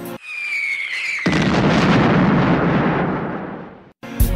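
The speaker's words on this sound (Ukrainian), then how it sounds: "Падає бомба, бліндаж в могилу." A falling bomb whistles down in pitch, then a loud, sustained explosive roar rumbles for over two seconds before cutting off, followed by a brief second burst.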